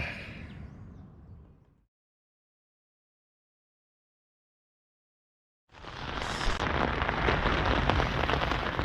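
Heavy rain patters steadily on a tent during a bikepacking trip in France, a dense close hiss that fades out, drops to silence, then returns loudly.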